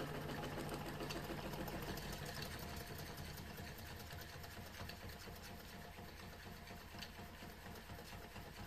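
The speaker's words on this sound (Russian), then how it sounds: "Двигатель набрал свои максимальные обороты" A small Stirling engine with a generator runs at full speed, a continuous quiet mechanical whir with a rapid rhythmic chatter, unchanged throughout.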